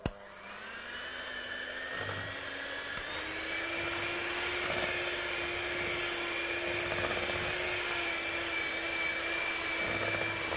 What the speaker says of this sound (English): I'm going to go in with my electric hand whisk